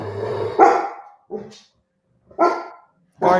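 A female Great Pyrenees guard dog lets out four loud, deep barks spaced about a second apart, close by and separated by short silences.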